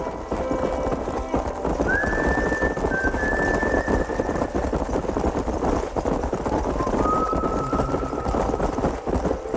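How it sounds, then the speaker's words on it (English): In the video game Red Dead Redemption, horse hooves clatter in a steady rhythm with a high whinny cutting through twice, over a constant rumbling background. "There's the horses!"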